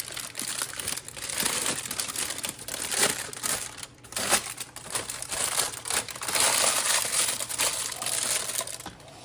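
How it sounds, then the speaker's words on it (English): A sheet of lining for a brownie pan being crumpled and uncrinkled by hand, giving continuous close crackling and rustling with no talk. "I'm going to crinkle it up. Gently uncrinkle it."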